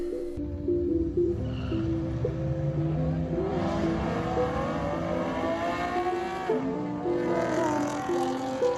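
A V6 Camaro in a drag race accelerates hard, its engine note climbing through gears with stepped rises and brief shift dips, loud and close throughout.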